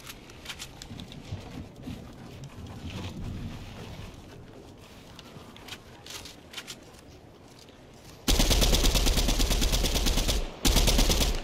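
Gunfire in Fortnite, where a heavy sniper rifle is in play, with scattered shots and background game noise before a loud sustained burst of firing in the last few seconds.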